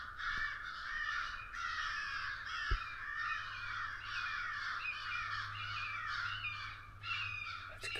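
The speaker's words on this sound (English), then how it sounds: "A bunch of crows and a hawk are fighting over there." A group of crows cawing outdoors in the woods during a muzzleloader deer hunt, with repeated harsh calls at a distance, fairly faint, over a low steady rumble.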